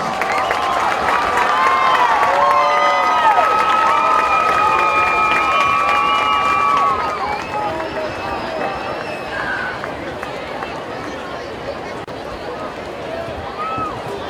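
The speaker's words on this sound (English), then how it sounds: "A big round of applause." Crowd applause and cheering at a 2016 North Forsyth high school football homecoming court presentation, a loud sustained roar of clapping and shouting with whistles that eases slightly partway through, heard from within the stands.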